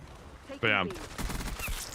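A full-auto pistol firing in Black Ops 6 multiplayer: one sharp, loud rapid burst lasting about a quarter second, followed by busier game sounds.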